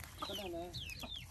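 Hens clucking in a farmyard where eggs were laid on the ground, a few short close clucks and calls with some voices mixed in.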